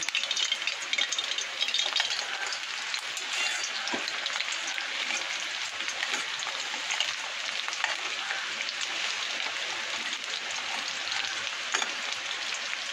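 Fritters of potato peel, onion and gram flour frying in hot oil, a dense continuous crackling sizzle throughout with small pops and occasional scrapes as they are flipped.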